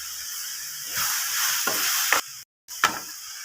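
Turmeric powder hits a hot frying pan while a spoon stirs through the oil, giving a steady close sizzle with scraping stir strokes and one brief silent break near the end.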